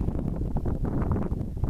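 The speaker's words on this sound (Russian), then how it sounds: "Ветер усиливается." Wind gusts outdoors on a cold but mild hunting day, a dense steady rush buffeting the microphone without pause, loud and close, with no voices.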